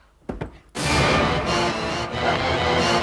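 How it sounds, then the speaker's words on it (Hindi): Police forcing open a door: a few sharp thuds and knocks, then a loud crashing burst followed by sustained noisy rumble, close and loud, in a Hindi horror drama scene. "हवलदार दरवाजा तोड़ दो।"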